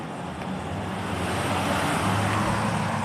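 Cars pass along a road in a continuous traffic rush, a broad close roar of tires and engines that builds gradually louder through the middle and stays heavy to the end, with no one speaking.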